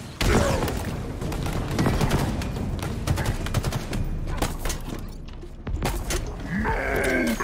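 Rapid bursts of gunfire from the Halo video game, dense volleys with booms layered over a continuous battle din, loud and close, with a voice briefly breaking through near the end.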